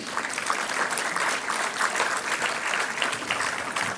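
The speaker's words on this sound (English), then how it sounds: "please keep the applause going" Steady, dense applause from an audience at a higher education summit awards ceremony, sustained at an even level throughout with no voices over it.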